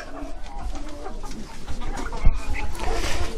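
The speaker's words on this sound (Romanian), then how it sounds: "Aici e cel de-al doilea cocoș." A rooster and hens cluck and murmur close by in a busy farmyard, with soft scratching and shuffling noises and one sharper knock midway.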